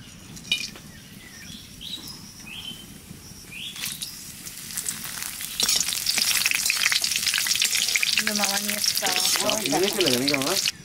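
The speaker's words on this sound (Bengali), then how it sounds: "তেলের উপর দিয়ে দেবো লং, দারচিনি, এলাচ, তেজপাতা, শুকনো লঙ্কা" Whole cloves, cinnamon, cardamom, bay leaves and dried red chillies hit hot oil for a mutton curry, a loud close sizzle that swells into steady frying, with birdsong outside on a rainy day and a voice near the end.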